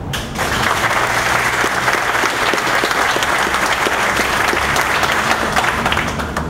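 Applause from a crowd at a town center groundbreaking ceremony in Laurel, dense and steady clapping that fills the space at close range and holds evenly from start to finish with no talk over it.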